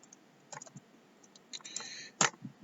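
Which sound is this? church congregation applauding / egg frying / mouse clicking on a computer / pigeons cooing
mouse clicking on a computer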